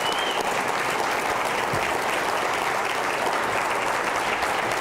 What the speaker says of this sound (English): So that deserves applause.